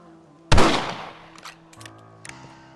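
A single loud rifle shot in the Red Dead Redemption game cracks out and rings into a long decaying echo, followed by a few faint clicks and rattles against a low steady hum.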